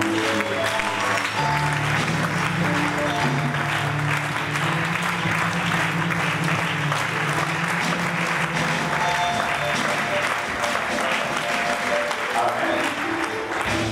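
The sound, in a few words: congregation applauding and acclaiming as an offering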